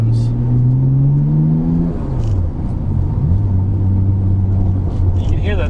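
Nissan Skyline GT-R R33 engine revving close by, a loud smooth rise in pitch that drops back and settles into a steady idle rumble, with a short second blip near the end.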